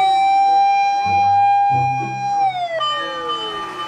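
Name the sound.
toy fire truck siren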